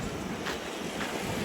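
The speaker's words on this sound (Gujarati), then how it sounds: "મસ્ત પવન આવે છે અત્યારે." Strong wind blowing outdoors on an evening walk near a hotel and cricket box, a loud steady rushing with gusty swells buffeting the microphone, no speech.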